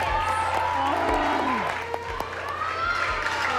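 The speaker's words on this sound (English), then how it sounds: "this is TV, so that's why people are cheering when they're eating banana bread" Studio audience cheering and applauding on a TV cooking competition as contestants taste coconut banana bread, a steady, close crowd roar with whoops, mixed with talking voices throughout.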